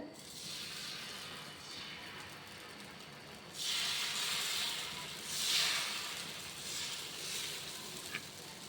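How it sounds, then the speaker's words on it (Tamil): Ragi dosa batter poured onto a hot pan, a soft hiss that swells into louder sizzling bursts partway through, fairly quiet overall with no talking. "நம்ம இப்போ மாவை ஊற்றிக்கிறோம்"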